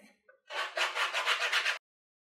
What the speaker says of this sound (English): I would take my sandpaper and just run around the edges to make sure that it's nice and smooth